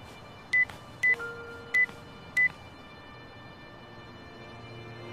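Four short telephone keypad tones dialed in an uneven rhythm, followed by a faint steady line tone, in an anime episode.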